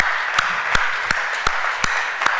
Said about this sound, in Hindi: पहले तो सब स्टैंडिंग ओवेशन देंगे डॉक्टर सुधीर भाई शाह को